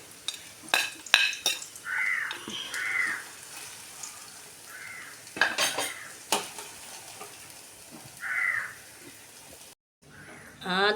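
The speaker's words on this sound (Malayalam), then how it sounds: "ചൂടാവുമ്പോൾ അരിഞ്ഞ് വെച്ചേക്കുന്ന വെണ്ടയ്ക്ക ഇട്ട് നല്ലവണ്ണം പൊരിച്ച് കോരണം" Chopped okra frying in hot oil with a soft steady sizzle, broken by sharp clinks of a utensil against the pan and brief stirring scrapes.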